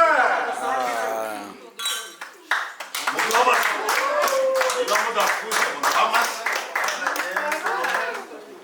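Loud clapping and applause from a group on a film set, many hands beating in a dense rapid rhythm that swells and continues, with voices and clinking glasses at the start.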